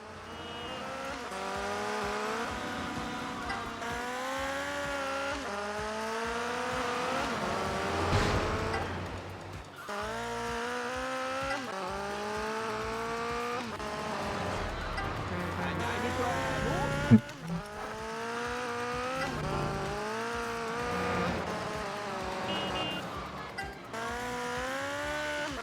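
Car engines drone and rise in GTA Vice City Stories on PS2, revving through gear changes with occasional tire squeals and skids, while someone talks over the traffic.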